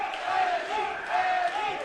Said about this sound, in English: The crowd is erupting here, screaming out Eddy Chang's name